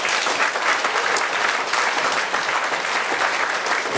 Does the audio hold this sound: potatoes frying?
no